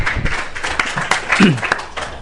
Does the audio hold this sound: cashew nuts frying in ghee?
no